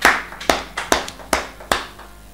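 A church congregation applauding the Lord during a French-language sermon, with about six sharp, evenly spaced claps ringing out together in rhythm and no voices over them.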